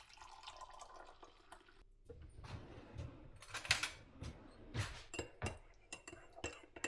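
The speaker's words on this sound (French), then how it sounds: "Et je recouvre d'eau." Water poured from a container into a pot of beef, carrots and onions with beef stock, a splashing rush broken by clinks of cookware, close and moderately loud with no talking.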